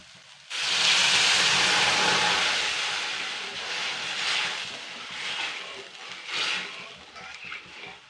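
Water is poured into a pan of lightly browned fried onions and bursts into a loud, rain-like hiss that fades slowly into uneven bubbling sizzle.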